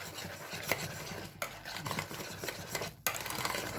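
Milk being stirred and whisked into a mixture for an oven-baked main dish, with steady scraping and swishing strokes close by, broken by a couple of brief pauses.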